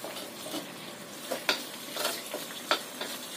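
A spoon stirs Mongolian chicken sauce of oyster sauce, salty soy sauce and sweet soy sauce in a pan, giving a few soft, scattered scrapes and clinks over a faint sizzle.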